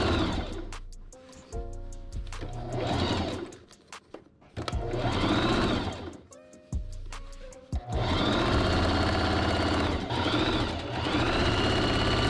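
A sewing machine darns over distressed denim jeans in loud close bursts of rapid stitching, stopping and restarting several times before a longer steady run.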